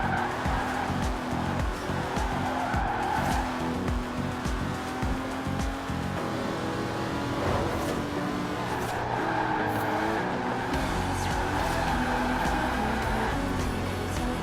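An Aston Martin Superleggera in Forza Horizon 4 drives with a steady, loud engine drone throughout, its pitch shifting with gear changes and brief tire squeal mixed in. No one speaks.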